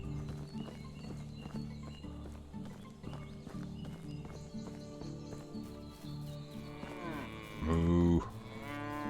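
A cow lows in the Medieval Dynasty video game, one deep moo near the end rising out of a busy farmyard bed of hoof clops and other livestock.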